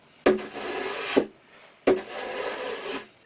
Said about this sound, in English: So I'll just put a chamfer on these two edges